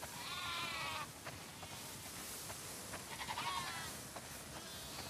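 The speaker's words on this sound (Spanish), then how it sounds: "Vaya, son muchas ovejas." A flock of sheep bleats in a farm setting in The Last of Us Part II, with several calls overlapping at low level against a steady wash of ambient game noise.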